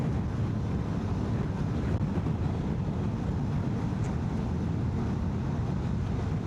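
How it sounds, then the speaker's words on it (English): Strong wind buffeting a microphone on a hilltop during a Honda X-ADV 750 motorcycle test ride, a steady loud low roar of wind noise filling the whole stretch with no talk. "It's very, very windy up here on the hill"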